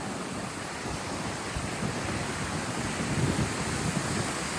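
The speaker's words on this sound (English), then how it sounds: "it's super windy and the waves is just a constant monotonous rolling" Wind buffets the microphone over the constant roll of ocean waves on the beach at Belmar, New Jersey, during a thunderstorm, a dense, monotonous roar that swells a little near the end.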